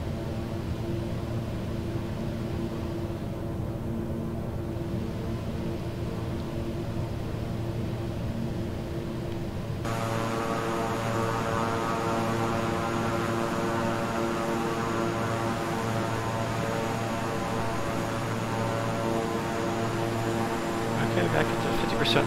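A King Air 350i twin-engine propeller plane in Microsoft Flight Simulator drones steadily throughout. The engine tone turns louder and brighter about halfway through, then holds an even, continuous roar with no pauses.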